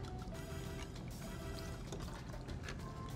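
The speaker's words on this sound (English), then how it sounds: "Now, all we're gonna do now is top this off with our ginger beer. Let's go ahead and pour." Ginger beer is poured into a cocktail glass, a continuous close bubbling trickle with fizzing splashes that rise as the glass fills.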